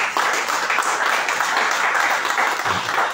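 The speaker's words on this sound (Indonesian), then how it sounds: "Tepuk tangan dong," Church congregation clapping during a sermon, a dense, sustained round of applause at steady loudness, with a faint low thump near the end.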